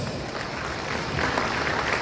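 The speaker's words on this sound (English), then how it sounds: "give Mr. Vajra Pereira a round of applause." An audience at a 2015 Metropolitan College graduation ceremony applauds, a dense, even wash of many hands clapping that swells slightly toward the end.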